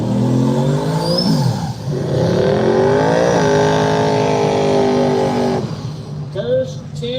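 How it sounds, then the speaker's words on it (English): A 3rd-generation Camaro drag races down a strip, its engine revving hard through rising gear pulls that climb, drop at each shift, then fade away, loud and close with an announcer's voice over a PA. "Travis Nip in the old Joe Dierte 3rd Gen Camaro in the right"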